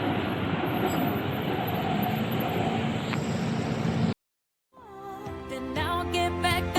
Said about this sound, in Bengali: থাইল্যান্ডের মেট্রো